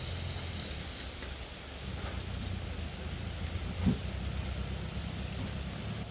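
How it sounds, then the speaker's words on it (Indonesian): Rain falls steadily on the steep Batu Jomba hill road, a constant broadband hiss with a low rumble underneath and one brief dull thump partway through. "Ini sekarang udah hujan."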